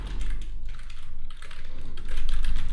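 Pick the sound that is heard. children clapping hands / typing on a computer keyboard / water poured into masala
typing on a computer keyboard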